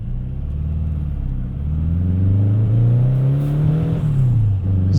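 A turbocharged Volkswagen Beetle engine revs loud and close, a deep rumbling drone that climbs steadily in pitch, holds, then eases back down, with no voices over it.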